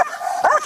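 A police K9 dog gives a single sharp, close bark that breaks into a whining yip during a struggle with a combative suspect, loud and brief with no speech over it.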